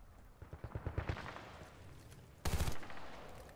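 Battlefield Bad Company 2 gunfire crackles in a rapid burst of automatic shots, followed a moment later by one heavier, louder blast with a short decaying tail, all fairly distant and without speech.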